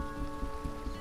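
Rain in a video game makes a dense, constant patter of drops under a faint tonal hum, close and steady throughout.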